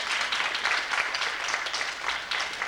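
A banquet crowd at a 1995 Southwest DeKalb track awards event gives a sustained round of applause, an even wash of many hands clapping at a moderate distance.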